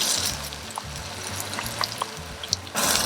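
Garlic and onions frying in a pan over lowered heat, a light sizzle under clattering and clinking of cookware, with a louder hiss bursting in at the very end.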